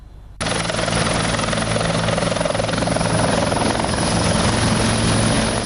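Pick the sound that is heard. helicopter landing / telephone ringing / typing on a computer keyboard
helicopter landing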